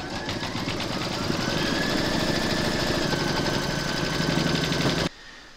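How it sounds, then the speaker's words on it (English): An embroidery machine stitching an applique round, a steady rapid mechanical chatter with a regular stitching rhythm, loud and close, that stops abruptly near the end, leaving a quieter hum. "Pop your hoop into your machine and stitch round number 4 to secure it."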